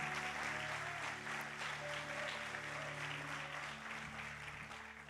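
A church congregation claps together in sustained applause, a dense continuous wash of hands that fills the room evenly and fades slightly toward the end.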